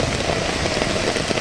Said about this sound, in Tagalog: Sobrang lakas ng ulan as of today.